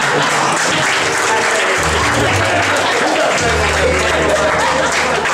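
Loud, sustained applause from a crowd at a pálinka competition event, dense continuous clapping throughout with some low background voices underneath.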